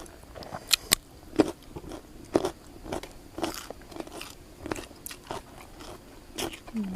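Someone eats Thai green papaya salad with grilled chicken, making faint, close crunchy bites and chewing in an irregular rhythm, with sharp crisp snaps scattered through otherwise quiet eating.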